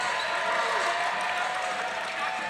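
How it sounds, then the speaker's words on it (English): A crowd applauds in an indoor gym during a junior boys basketball game between Brookswood and St Thomas More Collegiate, a steady wash of clapping and crowd noise with faint voices underneath. "Great crowd here, Nick."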